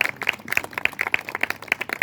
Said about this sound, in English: Can we give Mr. Snoop a big round of applause?